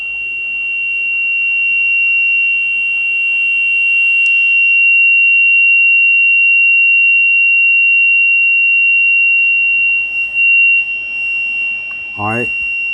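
Steady continuous radio tone received on 24.546 lower sideband, a loud unbroken whine with static beneath it, a brief tone sweep near the end.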